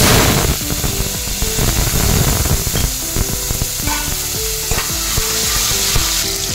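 Loud, steady sizzling and crackling of tomatoes frying in hot oil, with stirring scrapes throughout and no talking.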